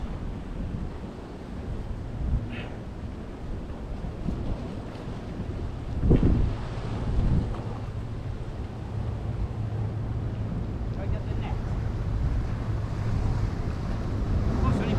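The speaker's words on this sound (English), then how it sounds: "the waves are a bit dangerous, so I'll be careful." Sea waves wash against a rocky shore on Friars Point in steady wind, a continuous rushing roar with microphone buffeting and a few louder surges, while someone speaks briefly over it.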